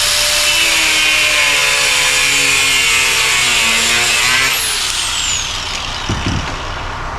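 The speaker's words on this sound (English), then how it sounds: "But here's where your cutoff wheel comes in. Cut down the center." An abrasive cutoff wheel slices through AN fuel line, giving a loud steady high-pitched whine with a dropping tone as it bites in, then winding down, followed by a couple of brief knocks near the end.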